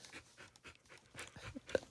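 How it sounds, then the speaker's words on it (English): A dog pants close by, its quick breathy huffs coming in a steady rhythm with one brief whimper near the end, and no one speaks. "I'm gonna kick this dog out."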